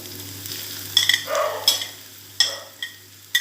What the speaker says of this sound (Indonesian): Sekarang kita goreng bahan-bahan sambal kecicang ini